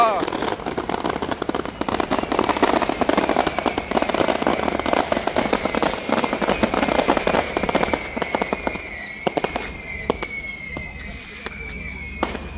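Fireworks and firecrackers burst at a Catholic festival in Jaffna, a dense run of crackling pops and whistling streaks over continuous crowd noise, with people talking throughout.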